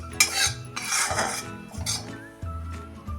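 A metal spoon scraping and clinking against a pan while dry-roasted coconut is pulled out, several distinct scrapes and taps in quick succession, close and clear with no talk.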